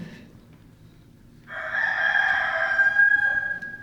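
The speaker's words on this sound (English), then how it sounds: "And below us, somewhere, a rooster crowed." A rooster crows once in a long, drawn-out cock-a-doodle-doo for a radio drama, fairly close and clear against a quiet background.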